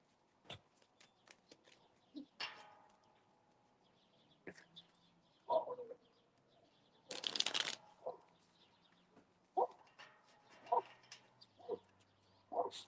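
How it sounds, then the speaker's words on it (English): Tarot cards are shuffled in short bursts, a loud riffling flurry in the middle and softer card slaps around it, with a dog whimpering and yipping faintly in a quiet room. "Let me just shuffle this."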